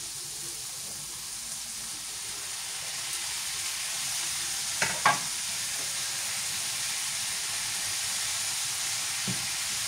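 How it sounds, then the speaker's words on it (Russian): Vegetables frying in a pan with tomatoes about to be added give a steady bright sizzle throughout, broken by a couple of soft stirring scrapes and clicks around the middle, with no speech. "Прожарились мои овощи, можно уже добавлять помидорки."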